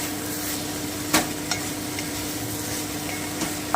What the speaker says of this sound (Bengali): এবারে আমি ঢাকাটা উঠিয়ে নিচ্ছি আমি একটু নেড়ে দিচ্ছি